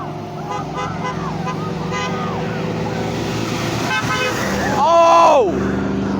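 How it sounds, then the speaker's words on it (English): A school bus horn gives a short honk over steady roadside traffic noise near a work site, with people talking nearby. "The school bus honked!"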